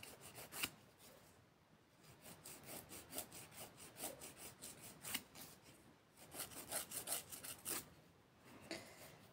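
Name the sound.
filing a fiberglass nail with an old nail file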